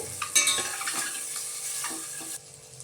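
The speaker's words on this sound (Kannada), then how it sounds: "ಮೊಟ್ಟೆ ಸ್ವಲ್ಪ ಎಣ್ಣೆಲಿ ಫ್ರೈ ಮಾಡ್ಕೊಳ್ಳಿ" Eggs fry in oil with salt and chili powder in a pan for egg biryani, a steady bright sizzle with scraping stirs and clinks of a utensil, the sizzle dropping quieter near the end.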